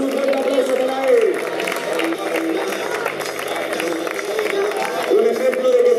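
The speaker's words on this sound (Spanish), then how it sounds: "un fuerte aplauso para él" Crowd applauding a blind runner at the finish of the San Silvestre de la Pola 2013 race, steady clapping and cheering with an announcer talking over it on a loudspeaker.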